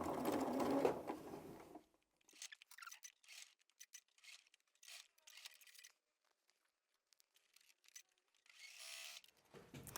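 A sewing machine tacks a fabric pocket onto a small quilted mug rug in short, quiet stitching bursts separated by pauses, preceded by a brief louder rustle.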